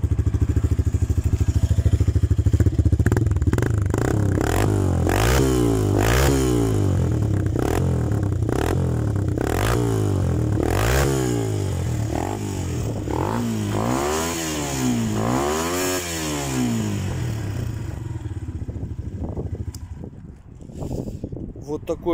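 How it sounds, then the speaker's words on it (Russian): A 125 cc VR-1 motorcycle with a UD154FMI engine and vertical cylinder runs close by, its exhaust loud and steady, blipped through several rising and falling revs before fading toward shutdown. "Сейчас мы послушаем немножко выхлоп и заглушим его."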